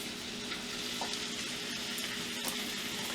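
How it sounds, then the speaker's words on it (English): Steady, close sizzling of dove meat frying in a hot pan, a constant crackling hiss with a few louder pops. "as soon as it starts sizzling"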